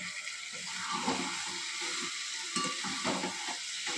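Poppy seed paste for a ridge gourd and potato posto fries in oil in a pan, producing a moderate, steady sizzle with soft stirring scrapes close by.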